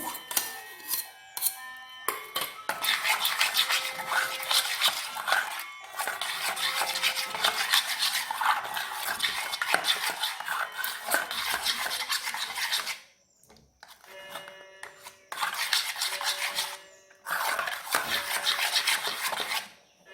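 Sour yogurt being stirred into thickened mango milk in a bowl, close rhythmic scraping and rubbing of a spoon against the container, continuous with brief pauses and a short quieter gap midway.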